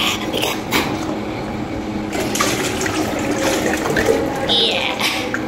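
Water runs and splashes in a kitchen as it is collected, a steady gushing flow with shifting bursts, moderately loud and close, without talk.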